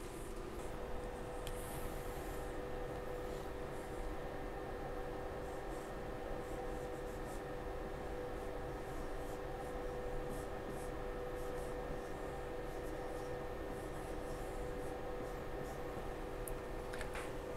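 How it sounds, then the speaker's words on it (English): Handwritten notes being jotted down in a lab beside measurement equipment: quiet, continuous scratching of pen on paper over a steady background hum, with brief small taps, and no voices. "So let's write it down."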